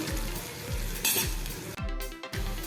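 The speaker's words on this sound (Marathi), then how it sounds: "कांदा आता आपला परतून होत आलेला आहे अजून थोडासा फक्त आपण परतून घेऊया" Chopped onion with finely cut green chillies sautés in a hot pan for a Maratha-style veg dish, a steady sizzle broken by repeated scraping strokes of a spoon stirring, close and clear with no talking.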